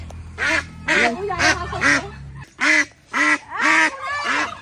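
Loud, close ducks quack in a series of harsh, rhythmic bursts, with a low rumbling hum underneath at first.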